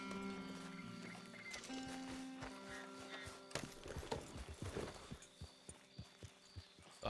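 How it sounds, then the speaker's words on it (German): Hooves of a lone horse and rider in the open-world western game Red Dead Redemption 2, a steady clip-clop that grows clearer and more rhythmic toward the end, with game music and ambience underneath. "Da ist nur ein einsamer Reiter,"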